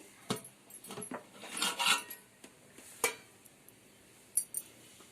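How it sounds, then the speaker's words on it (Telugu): Metal lid lifted off a pot of home-made chicken dum biryani, a few sharp clinks and scrapes of metal on metal, close and quiet, with scattered small taps afterward. "ఇప్పుడు మూత ఓపెన్ చేస్తున్నానండి"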